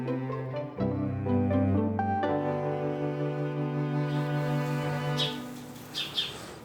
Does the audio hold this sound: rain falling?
no